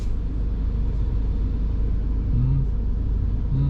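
Motorhome rolling slowly through city traffic, a steady low engine and road rumble holding constant throughout, with faint brief tonal hums near the end.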